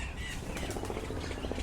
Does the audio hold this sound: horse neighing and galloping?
no